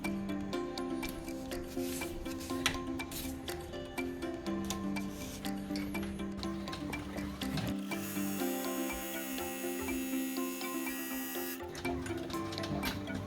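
Embroidery machine runs its final tack-down stitch, a steady close mechanical whir with rapid rhythmic needle chatter and shifting tones, continuous throughout.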